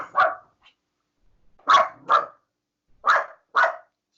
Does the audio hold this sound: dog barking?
yes